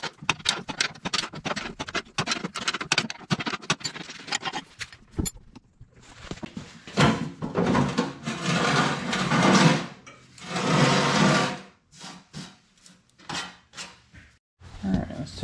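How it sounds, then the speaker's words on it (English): A hand wrench working a bolt on a Craftsman 8.5 hp wood chipper: rapid ratcheting clicks at first, then longer scraping bursts and metallic clanks, close and moderately loud, with no speech. "I'm gonna go ahead and get a wrench on that one."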